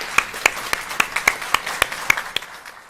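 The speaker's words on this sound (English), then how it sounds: "I think we give a round of applause to the people who've served our country" A round of applause in a courtroom during a criminal trial, a small group clapping in a fairly sparse, steady rhythm of sharp individual claps, close and clear with no talking over it.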